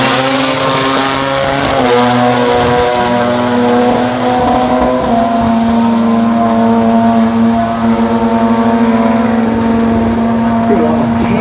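Drag racing car making a 146 mph pass at a jamboree, its loud engine droning with rising and shifting harmonic tones throughout, while a commentator talks over it.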